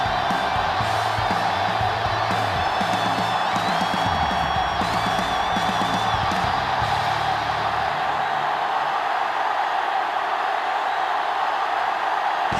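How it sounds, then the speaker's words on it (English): Stadium crowd in Madden NFL 07 roars and cheers at the season-opening kickoff between the Seattle Seahawks and Detroit Lions, a loud sustained swell with whoops that fades toward the end. "crowd in full throat as we get this new season started with the kickoff"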